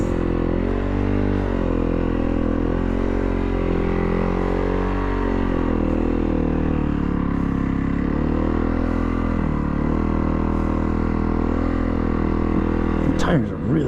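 A 2019 Yamaha WR250F dirt bike engine drones steadily while being ridden, its pitch rising and dipping with throttle changes, close and loud from start to finish.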